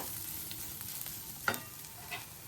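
Spice masala is stirred and roasted in a pan, a quiet soft sizzle with a few sharp scraping taps of the spoon against the metal.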